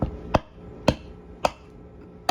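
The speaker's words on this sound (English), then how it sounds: "I'm going to gently tap it with a hammer just so that it will break up a bit." A hammer taps on sugar wrapped in a paper towel. Four sharp, evenly spaced knocks sound close and loud, about half a second apart, with quiet between them.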